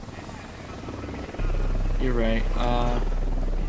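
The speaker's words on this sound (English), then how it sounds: "Oh, there's a helicopter above us." Helicopter hovering overhead in Ghost Recon Wildlands, a steady low rotor drone running loud throughout, with players talking over it.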